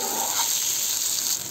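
Chopped tomatoes and green chillies sautéing in a pan for a tomato chilli chutney, giving a steady, close, continuous sizzle and frying hiss with faint stirring, no voices.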